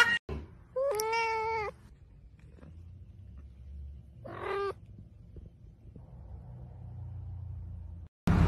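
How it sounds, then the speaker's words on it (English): A cat lets out two loud, drawn-out meows close by, the first longer, separated by a few seconds of quiet room hum. "I came here for the dog, but that is a cat."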